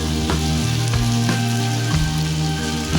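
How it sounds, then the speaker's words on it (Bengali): Pumpkin, carrot and onion fry in hot oil with a steady, dense sizzle, near and loud, and a few soft stirring bumps interrupt it. No voices are heard. "কুমড়ো, গাজর ও পেঁয়াজ আমার তেলের মধ্যে ভাজা ভাজা হয়ে গেছে।"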